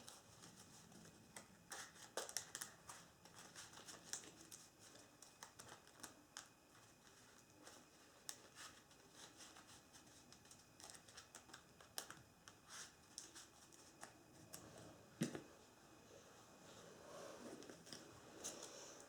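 Cards from a Lord of the Rings card game deck are shuffled in a long run of quick, faint riffling clicks and taps over nearly twenty seconds, close but quiet.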